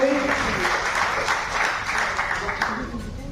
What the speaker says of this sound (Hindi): उत्तम जी को ताली बजाकर उनका स्वागत करें और अभिनंदन करें